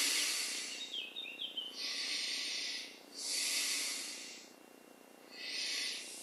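Slow, deep breathing during a seated yoga twist, airy hissing breaths in and out repeating in long even swells, close and clear with no talking.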